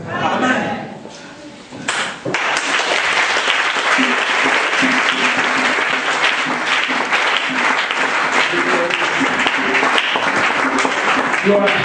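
A church congregation breaks into loud, sustained applause after a brief spoken moment, the clapping thick and continuous with voices cheering inside it.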